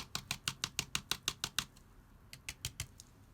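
An upturned container of flock is tapped in a quick run of about ten sharp, light knocks, a short pause, then four or five more, close and fairly quiet with no talk.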